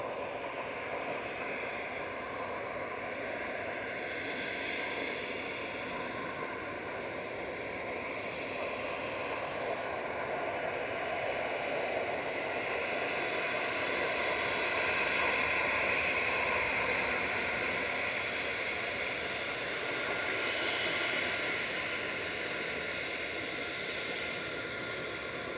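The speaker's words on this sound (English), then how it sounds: "Lufthansa 2500 from Munich touching down in the background" A Lufthansa Airbus A319 arriving from Munich touches down at Manchester Airport, a distant, sustained jet roar that swells gently in the middle and then settles, steady and unaccompanied by talk.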